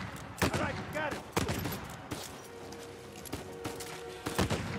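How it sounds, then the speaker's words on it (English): Gunfire from the video game Uncharted 4: A Thief's End: several loud, sharp shots ring out at irregular intervals over a busy game soundscape, with a player's voice talking between them. "This gun is way too powerful."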